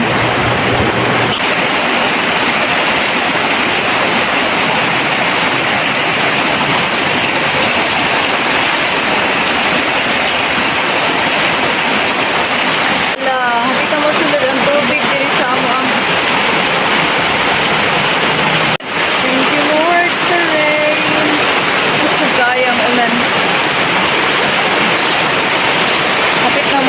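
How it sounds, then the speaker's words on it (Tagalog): Heavy rain roars in a dense, steady wash throughout, with voices speaking briefly underneath partway through. "Isog kayo ang ulan."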